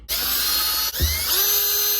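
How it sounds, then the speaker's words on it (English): A power drill with a 9/64 bit whines at high speed drilling holes for a Trailtech speedometer on a Banshee-engined supermoto, briefly stalling and dipping in pitch before spinning back up, close and loud. "Now I'm gonna drill a couple holes"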